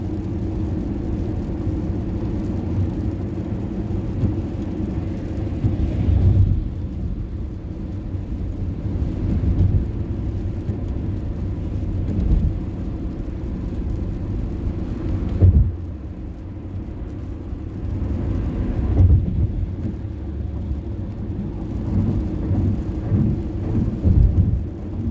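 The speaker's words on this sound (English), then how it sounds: "It's raining quite a bit." Heavy rain while driving a car on a highway between Minneapolis and St Louis Park, a dense steady roar of rain and road noise with low rumbling swells and occasional dull thumps, loud and continuous.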